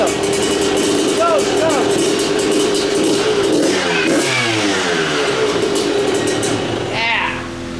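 A freshly started Yamaha YZ125 two-stroke dirt bike engine rips through sharp, rising revs close by, blips climbing and falling repeatedly while excited voices cheer in the background.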